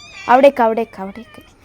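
A cat meows loudly and close by, a drawn-out call followed by a couple of shorter, fading meows.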